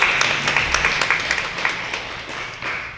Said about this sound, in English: Please give Alfredo a round of applause.